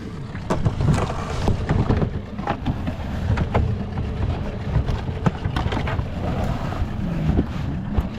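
A dinghy's outboard motor runs in gear on open water, a steady rough drone with wind buffeting the microphone and irregular clunks and splashes over the top, with no voices heard.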